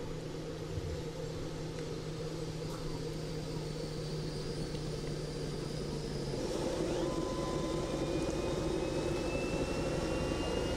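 Aircraft engine in the video game Arma 2 during a landing, a faint, steady droning whine over hiss whose tone shifts partway through, with no voices.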